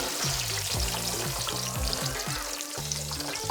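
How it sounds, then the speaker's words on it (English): Hot wieners sizzle and fry in butter in a hot cast iron pan, a steady close crackling hiss that runs throughout with a low tonal hum underneath. "Our cast iron is hot. And into the butter. Down go our fries."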